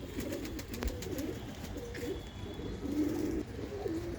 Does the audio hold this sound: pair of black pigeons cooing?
yes